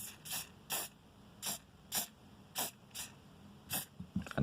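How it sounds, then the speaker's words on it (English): Spray lubricant hisses in short, sharp bursts into a Tokyo Marui MWS airsoft magazine, about nine quick evenly spaced squirts close to the microphone, then faint handling noise at the end. "I'm going to give that a little bit of a spray."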